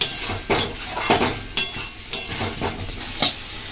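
A spoon stirs frying masala in a pan with repeated scraping scrapes and soft clinks against the metal over a continuous low sizzle, strokes coming roughly every half second.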